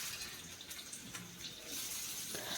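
Cut pumpkin pieces hitting hot mustard oil in a pan, giving a steady, close hiss and sizzle that builds toward the end, with no talk.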